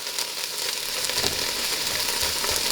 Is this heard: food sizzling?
yes